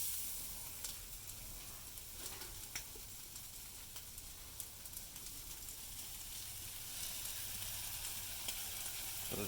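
An egg and cheese toast mix fries in butter in a pan for Korean cheese toast, a continuous close sizzle and hiss with occasional faint stirring clicks, no voices.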